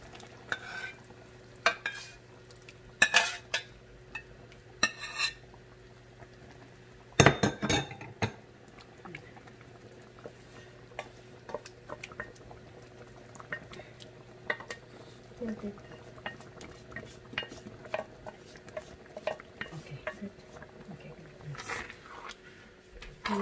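A spoon stirs ginisang munggo, a mung bean soup, in a cooking pot, making intermittent scraping and clinking with occasional louder knocks. People talk at times over the stirring.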